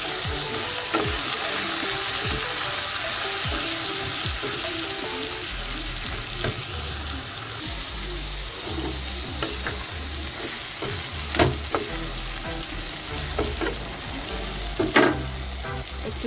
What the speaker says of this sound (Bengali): নুন আর হলুদ দিয়ে ভালো করে ভেজে নিতে হবে।